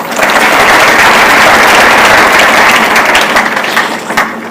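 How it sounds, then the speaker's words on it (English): A crowd of university students in Kilifi claps loudly in a sustained burst of applause that tapers off toward the end. "I want you to clap"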